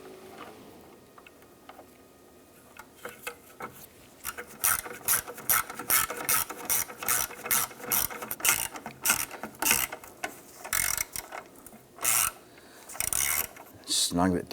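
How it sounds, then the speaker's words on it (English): Socket ratchet with an extension tightening a radiator horn bolt on a 2005–2007 Ford Five Hundred, rapid clicking ratchet bursts in quick repeated strokes, close and crisp, after a few quiet seconds. "I'm going to take my socket and extension and line that up and get that bolt started."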